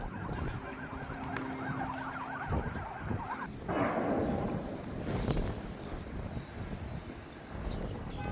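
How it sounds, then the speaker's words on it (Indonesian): Ambulance sirens wail after explosions in Lebanon, a steady warbling tone that runs for a few seconds before being swallowed by louder broadband rumble and street noise from the damaged area. "Suara ledakan dan sirine ambulans bersahutan saat kerusakan terjadi di beberapa titik."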